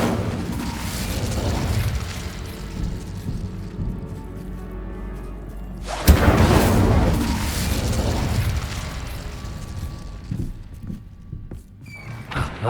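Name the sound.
Incendio fire spell exploding in video game Hogwarts Legacy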